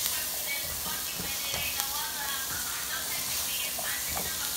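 A vegan tahini pasta and kale mixture sizzles steadily in a pan, a close, constant hiss with faint crackles throughout and no pauses.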